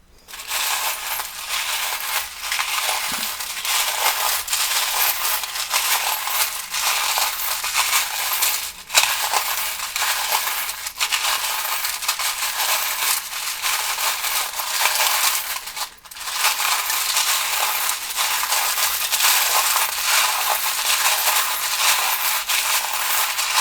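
Small metal charms are cast for a tarot reading, making a dense, continuous clatter and jingle that stays close and fairly loud, with a few brief dips and scattered sharper clinks as pieces drop and settle.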